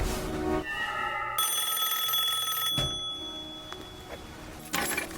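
Bright metallic ringing in several bursts that stop and restart, with a few clicks and clinks between them and no one talking.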